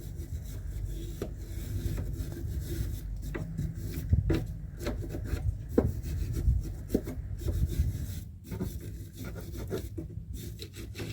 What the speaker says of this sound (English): rub down with the wire brush and clean them up